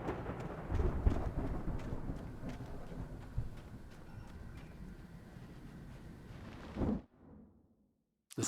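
Heavy thunderstorm in the Alan Wake game: a dense, continuous roar of rain and rumbling thunder with a few sharp cracks, loud and steady for about seven seconds before cutting off abruptly to near silence.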